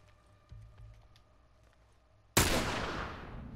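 A single loud sniper rifle shot in The Last of Us, a sharp broadband crack at about two and a half seconds that rolls into a long echoing tail, following quiet game ambience with a faint thump earlier.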